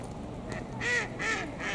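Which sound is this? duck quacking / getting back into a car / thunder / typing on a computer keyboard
duck quacking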